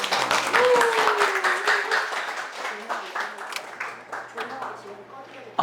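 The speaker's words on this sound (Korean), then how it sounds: "큰 박수 부탁드립니다" Audience applauding before a lecture on Gaudí's architecture, a burst of close clapping that gradually tapers off, with voices talking over it.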